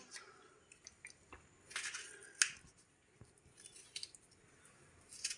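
A knife cuts through tomatoes into medium pieces, giving soft squishy slicing sounds and light taps on the board, close and quiet, in irregular strokes.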